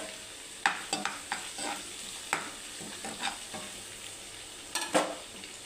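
Curry leaves and chopped vegetables sizzling in hot oil for khichdi, with scattered bursts of a spoon stirring and scraping the pan over a steady low fry.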